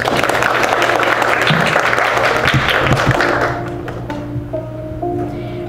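An audience at a Korean traditional tea ceremony performance claps loudly in a full burst that tapers off after a few seconds, leaving quiet room tone and a faint tone.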